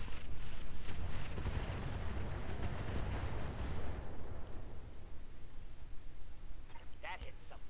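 Mech weapons fire and impacts in a sci-fi battle game, a dense rumbling barrage of booms and bursts that thins out over a few seconds, with someone talking over it.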